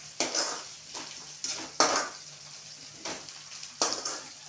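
Semolina (rava) frying in an oiled pan for upma, a low steady hiss broken by four louder scraping bursts as it is stirred around the pan.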